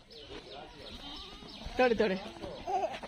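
A few short goat bleats ring out in the second half, fairly close, with a person talking quietly nearby.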